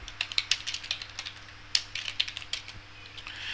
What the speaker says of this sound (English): Maybe we'll just have to type it in.